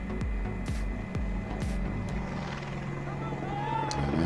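A helicopter filming the Xiamen Marathon makes a steady, rhythmic rotor thump under a commentator's voice, with the beat continuing throughout.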